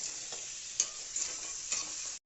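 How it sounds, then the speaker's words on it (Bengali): Tangra fish sizzle in hot oil in a pan while being stirred, a close, steady frying hiss broken by a few soft scraping strokes, with no voices. "দেখতেই পাচ্ছেন বন্ধুরা, আমরা ট্যাংরাটাকে ভেজে নিচ্ছি।"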